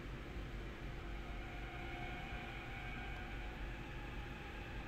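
Steady rumble and hiss of a train running in Train Sim World Rapid Transit, with faint squealing tones layered over a constant low roar as it slows, no voices.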